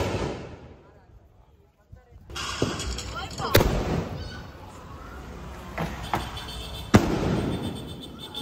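After a quiet hiss, firecrackers burst with sharp loud bangs, a few distinct pops echoing outdoors amid crackling and background voices.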